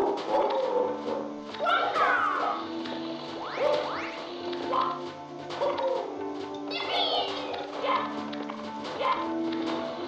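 A dog barks several times in Super Mario 64 Chaos Edition, mixed with game music, bird-like chirps and other effects in a busy, steady game soundtrack.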